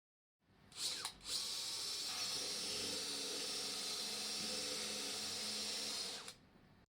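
A high-pitched surgical drill with a 4.2 mm bit whines steadily for several seconds after a brief start-up while drilling through bone, then winds down and stops.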